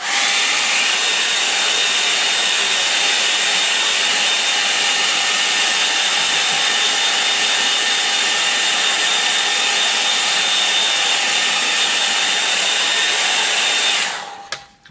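A hair dryer blowing on a landscape painting of a river scene, a loud steady whooshing drone with a constant whine, running continuously for the whole stretch before cutting off at the end.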